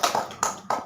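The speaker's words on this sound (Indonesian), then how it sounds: "Tepuk tangan buat temannya." Schoolchildren in a classroom clap for a classmate during a fifth-grade maths lesson, heard as three short, separate bursts of close, light clapping in under a second.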